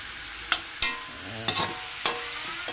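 A pot of ginataan with banana blossom, papaya and malunggay simmering in coconut milk is stirred, with several sharp spoon knocks against the pot over a low bubbling sizzle.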